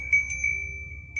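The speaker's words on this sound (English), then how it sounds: "This is my new bell." A new bell rung with a single clear, sustained metallic tone that holds steadily through the moment, with a few faint light taps over a low background hum.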